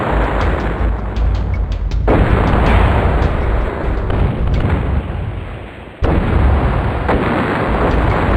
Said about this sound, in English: Are our bombs still falling? They are.